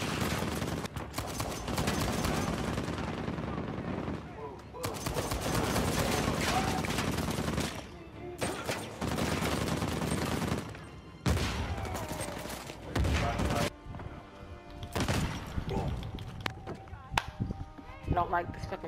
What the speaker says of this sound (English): And here come the gunshots.